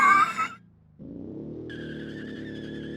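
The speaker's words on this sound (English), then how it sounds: "Handbrake turn." Car drifting through a handbrake turn in the Automation driving game, a brief burst of engine noise and scrub followed by a steady, sustained tire skid with a high squealing tone under a constant engine drone.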